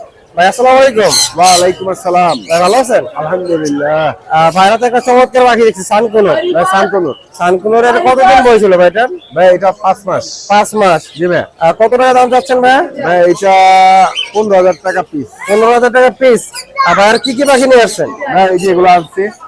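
A busy chorus of many birds calling and squawking at once at the Mirpur bird market, with fowl clucks mixed in, continuous and loud around people talking.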